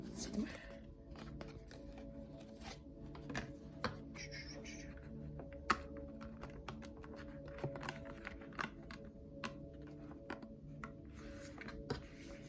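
Quick, soft papery riffles and clicks of cards being shuffled, with faint tonal background sound throughout and no clear speech.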